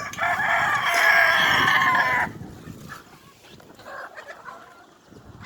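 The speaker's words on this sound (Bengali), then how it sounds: "দেখেন এই অনেকগুলো মুরগি আছে।" A loud, dense burst of many chickens clucking and crowing together on a livestock farm in a desert region, lasting about two seconds before dropping to quieter scattered farmyard sounds.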